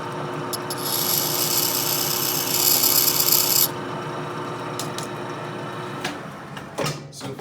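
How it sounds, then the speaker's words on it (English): A metal lathe runs with a steady hum and broadband rasp while cutting an axle adjuster for a sporty hard tail kit, a brighter hiss swelling for a few seconds as the tool bites, then easing to a steadier whir. "So we're gonna turn our lathe on."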